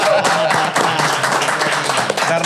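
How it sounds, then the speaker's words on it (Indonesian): An audience claps in dense, continuous applause close by, a brief burst of many hands with faint voices mixed in. "Ya kita harus tepuk tangan dulu dah."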